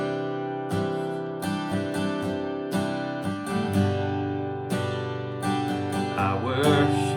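Guitar strumming in a rhythmic worship-music pattern, with sharp repeated strokes over ringing chords, played up close and clear with no talking.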